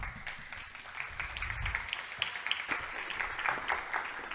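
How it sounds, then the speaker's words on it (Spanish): An audience at an international circular economy conference gives a round of applause. The clapping is fairly faint and sustained, with scattered sharper claps. "Démosle un fuerte aplauso"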